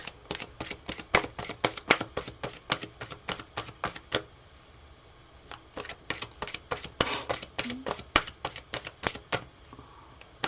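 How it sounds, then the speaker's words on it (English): Tarot cards are shuffled in quick bursts of crisp riffling clicks and slaps, rapid rhythmic strokes close to the mic, pausing briefly midway before resuming, with no voices heard. "I'm just going to quickly shuffle this up."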